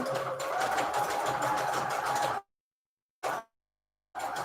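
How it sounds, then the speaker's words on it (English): A sewing machine on a low-setting decorative stitch runs steadily through paper scraps for a couple of seconds, then stops; after a pause come a brief burst and a restart, close and clear, no voices. "I'm just going to go ahead and sew in between all the lines, papers."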